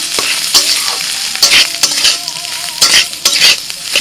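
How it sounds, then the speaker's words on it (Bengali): Ghee-coated Gobindobhog rice is stirred and fried in a pot. Loud, close scraping and clattering spoon strokes come in irregular bursts over a bright sizzle. "চালটা একটু হালকা করে নেড়ে নেব"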